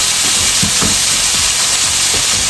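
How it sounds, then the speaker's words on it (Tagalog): Carrots fry in hot cooking oil, giving a loud, steady, close sizzling hiss with soft stirring knocks underneath and no talking. "So init na akong mantika, lunod na nato ang atoang carrots."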